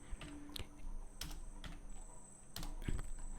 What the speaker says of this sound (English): I'll type the font.